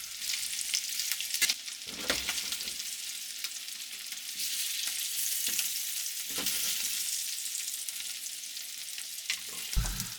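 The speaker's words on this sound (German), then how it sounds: "Schön braten von beiden Seiten." Beef frying in a pan on both sides, a steady broadband sizzle running for about ten seconds with a few brief clatters and scrapes of utensils on the pan; no talking.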